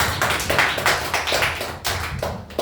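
Loud, sustained clapping from an audience honouring an elder at a Hindi poetry gathering, a dense patter of many hands that continues steadily with a brief dip near the end.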